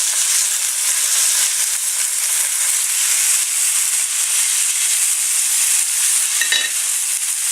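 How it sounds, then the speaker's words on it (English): Steady, loud sizzling of steak frying in a hot pan, a continuous crackling hiss with no voices. "you need to hear a sizzle. If you're going to seal steak,"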